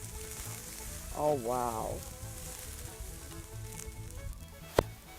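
A steak sizzles and fries steadily on a grill at a 4th of July cookout, a continuous hiss under a brief exclaiming voice and a sharp clack near the end as the meat is turned.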